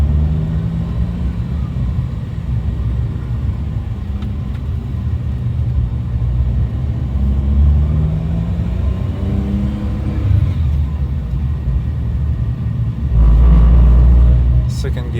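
A 1996 Suzuki Jimny with the K6A engine runs in first gear, giving a steady low rumble at fairly low revs that swells near the end, with someone talking over it.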